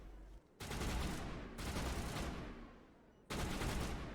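Gunfire in the Mass Effect game, an Engineer firing a pistol on Insanity difficulty: dense, loud bursts of rapid shots in three sustained volleys with brief gaps between them.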